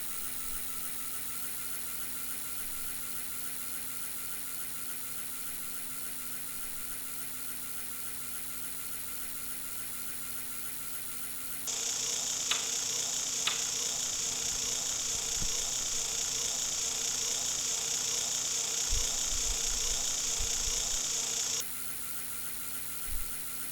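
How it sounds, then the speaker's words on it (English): Simulated locomotive engine sound from SCARM model train simulator software, a steady whirring drone with a high squealing tone that grows louder partway through, then drops back as the train circuits the layout. "It's interesting, the noise of the engine comes and goes."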